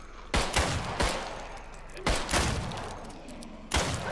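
Revolver shots in the video game Contagion ring out four times at uneven intervals, each a loud, sharp crack with a booming tail, close and dominant.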